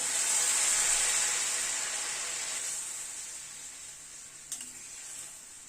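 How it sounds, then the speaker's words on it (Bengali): Hot water hits a hot frying pan with a loud burst of sizzling hiss that gradually fades to a quieter simmering fizz. "এবার গরম জল দিয়ে দিচ্ছি।"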